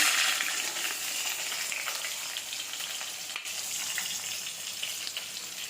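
Fenugreek, cumin and small onions sizzle in hot oil for a manathakkali vatha kuzhambu, a dense continuous frying hiss that holds steady from start to finish with no voices.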